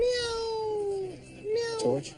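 A man imitates the cat-like call of an Inca tern with a drawn-out nasal meow, a pause, then a shorter rising mew. A spoken word comes at the end.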